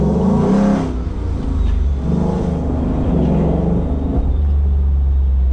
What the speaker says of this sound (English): once the engine fully kicks in, the transmission kicks down, now we're in automatic, it is absolutely awesome